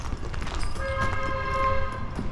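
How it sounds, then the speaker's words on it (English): Trains pass outside near a train station in East St. Louis, giving a rumbling rail noise with a sustained tonal whine or horn-like note in the middle, moderately distant and steady throughout. "Yeah, you can hear the trains from outside."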